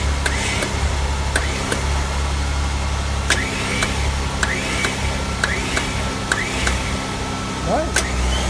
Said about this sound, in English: I heard the motor was loud, but actually it's not bad at all.